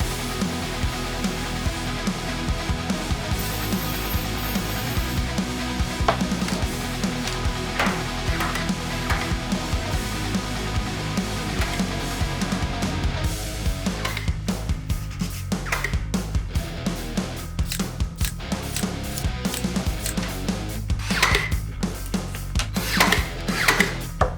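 Half-inch and three-quarter-inch MDF sheet being cut for a bunk bed, a steady machine drone that turns into rapid choppy cutting bursts in the second half, close and loud with no talk.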